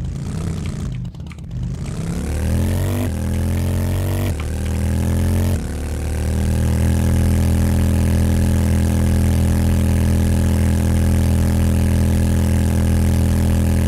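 A motorcycle engine in the game Alpha 17 revs several times in quick bursts, then settles into a loud, steady, rumbling drone that carries on alone without talk.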